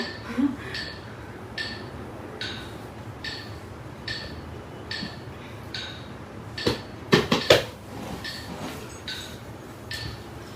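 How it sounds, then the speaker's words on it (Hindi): Tabla played against a steady metronome, regular clicking ticks running throughout at a moderate pace, with a short cluster of louder, sharper drum strokes near the middle; fairly faint overall with some background noise. "इसी मेट्रोनोम के साथ बजा रही हूँ थोड़ा थोड़ा।"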